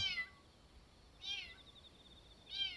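Three short, high-pitched kitten meows spaced about a second apart, fairly faint and distant against a quiet background.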